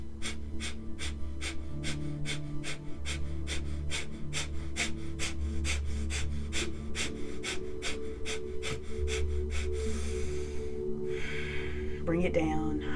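Rapid, rhythmic Breath of Fire yogic breathing, sharp forceful exhalations pulsing steadily about twice per second for ten seconds over a low background hum, then stopping with a long, deeper breath near the end.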